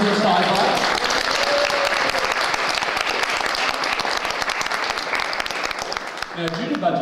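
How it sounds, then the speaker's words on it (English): A convention audience applauds guest panelists in a loud, dense, sustained wash of clapping that cuts off near the end, with talk resuming faintly. "Big round of applause for our very special ladies of sci-fi"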